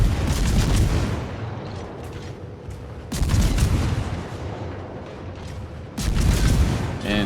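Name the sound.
warship guns firing in the video game World of Warships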